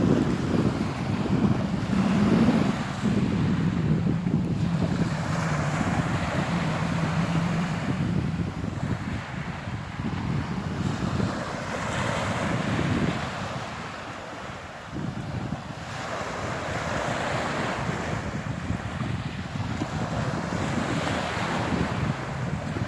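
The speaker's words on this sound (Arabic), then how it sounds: "ايه تعال نمشي بحد البحر، يلا امشي بحد البحر." Sea waves wash onto the shore in slow, repeating surges, with gusting wind buffeting the microphone and filling the background throughout.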